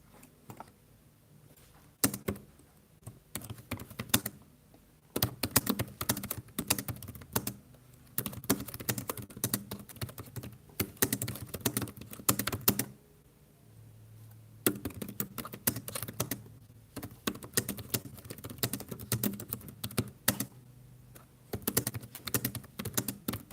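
Someone types on a computer keyboard in irregular bursts of close, clicky keystrokes with short pauses between, over a quiet background.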